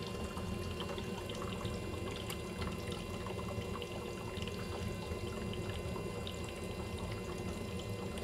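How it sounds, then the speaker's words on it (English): A continuous low bubbling and gurgling of water inside a van's boiler, steady and fairly quiet, with no talking. "so now it's making bubbling noise."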